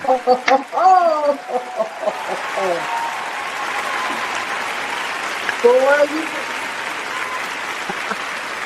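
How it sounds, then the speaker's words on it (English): Audience clapping at a union meeting, a steady mid-level patter of applause running under and after a few seconds of voices talking and exclaiming at the start. "Let's give a hand clap on that."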